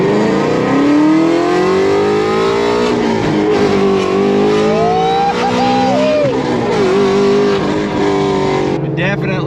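A 2020 Ford GT350 with full bolt-on modifications and a custom tune accelerates hard, its engine note climbing steadily through the gears with a brief wavering squeal of spinning tires mid-run, loud and close from inside the car.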